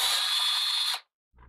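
A loud power drill whirs for about a second while cleaning a cartridge case primer pocket, then cuts off, followed by a brief faint mechanical clunk.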